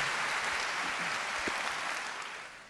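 Steady applause from a crowd at a football club's new-season team presentation, dense and even, holding for a few seconds before beginning to fade.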